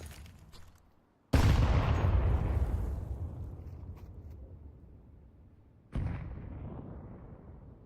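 Grenade blast in a Counter-Strike match: a sudden loud boom that rolls off slowly, then a second, quieter burst about five seconds later, with no talking.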